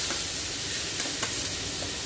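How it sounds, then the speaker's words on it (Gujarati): Cumin seeds sizzling in hot oil while cooking a Punjabi vegetable curry: a steady, close, broadband frying hiss with faint crackles and pops, continuous throughout with no talk. "તેની અંદર એક ચમચી આપણે જીરું નાખશું"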